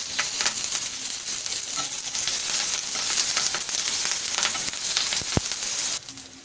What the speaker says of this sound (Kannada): ಇವಾಗ ಇದೆಲ್ಲ ಚೆನ್ನಾಗಿ ಫ್ರೈ ಆಗಿದೆ.